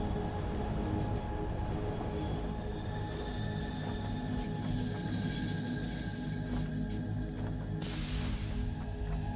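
A train ride in the video game Satisfactory, heard as a steady, loud rumble of rolling wheels and rail noise with a brief brighter hiss near the end and no talking.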